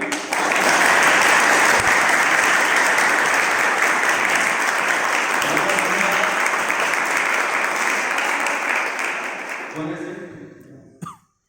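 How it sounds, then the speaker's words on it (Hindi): Loud, sustained applause from a large audience at a poetry gathering fills most of the stretch, then fades out with a few coughs and a brief voice at the very end. "उस बड़े कवि के लिए आपकी बड़ी तालियां बजे"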